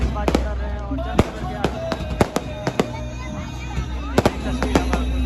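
Fireworks and firecrackers burst at a Diwali celebration in Kalyanpur, Munger, with sharp cracks popping irregularly over a steady crowd rumble, some near and loud, others farther off.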